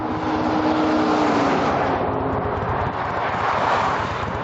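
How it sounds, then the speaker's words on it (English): Cars rush past on a road through the Rocky Mountains in Utah, a loud steady roar of traffic and wind buffeting the microphone with no pauses between vehicles. "I gotta go because these cars are scaring the shit out of me."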